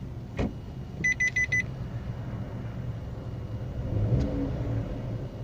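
Inside a Maruti WagonR AMT, a short burst of several rapid electronic warning beeps sounds over a low idling engine hum, followed later by a faint click.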